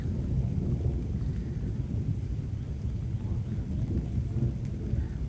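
Heavy rain falls in a village setting, a dense, steady roar punctuated by deep rumbles of thunder, with no voices.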